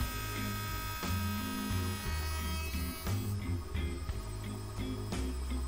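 A router on a router table cuts across the end of a door rail held by a toggle clamp on a sled, giving a steady whine with shifting pitch as the cutter bites and eases off through the pass.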